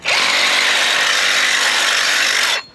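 A windshield removal tool blade is sharpened against a power tool, giving one loud, steady grinding hiss of about two and a half seconds that cuts off abruptly.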